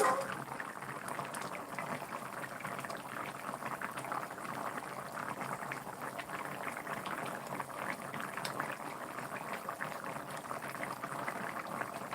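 Bengali curry of soft eggplant and taro root simmering in a pot, a steady low bubbling burble that runs evenly throughout with no voices.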